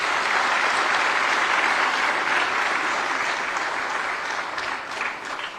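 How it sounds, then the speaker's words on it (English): A large audience at a formal National Energy Conservation Day function claps in a dense, continuous burst of applause that holds steady and tapers slightly at the close. "Ladies and gentlemen, a big round of applause."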